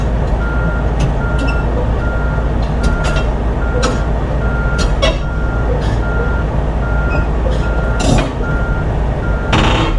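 A heavy haul truck slowly pushes a trailer backward. Steady, evenly spaced reversing beeps sound over a constant low diesel rumble, with a few sharp clanks and hisses along the way.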